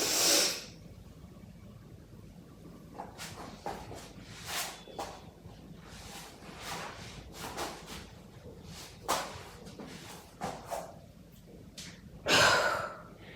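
Deep yoga breathing, close and intimate: a sharp inhale, then a long stretch of quiet, uneven breaths and soft rustles while the breath is held, ending in a forceful audible exhale.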